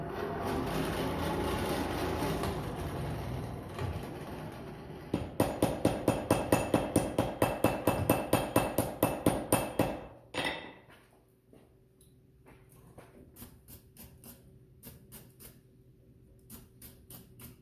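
Rhythmic hammer blows on hot metal in a coal forge while forge welding a bar end, roughly a dozen sharp, ringing strikes in quick succession after a stretch of steady forge roar, then quieter clinks and scraping.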